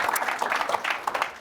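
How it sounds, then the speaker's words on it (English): An audience at a tech community talk about landing a first job with AI claps for a departing speaker, a brief, moderately quiet patter of many hands. "Can we all give one more big round of applause to Geshan?"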